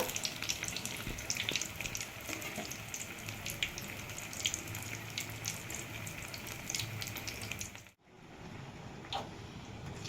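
Egg masala bonda fry in hot oil with a dense, steady bubbling sizzle that cuts out abruptly near the end before a faint return.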